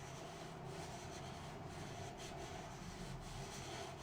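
Chalk rubbed in steady circles over a surface while drawing planets, a continuous soft scratchy rubbing that holds a constant level throughout, close and alone with no voices.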